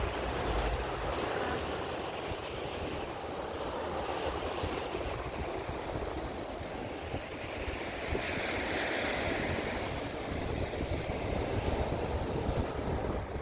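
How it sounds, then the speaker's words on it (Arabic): Sea waves wash onto a calm beach at Arish, Egypt, a steady broadband surf roar that stays fairly constant throughout with some wind noise. "الشط هناك كان رايق وجميل"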